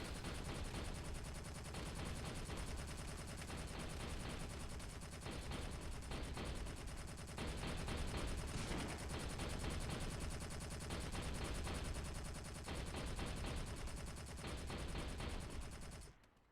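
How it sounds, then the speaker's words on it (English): Weapon systems fire continuously in the video game Space Engineers, a dense, loud, unbroken stream of rapid shots and booms lasting about sixteen seconds before cutting off abruptly, with no talking. "weapon systems are firing at useless things that don't or won't matter"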